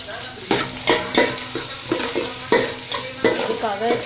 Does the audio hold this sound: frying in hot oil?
yes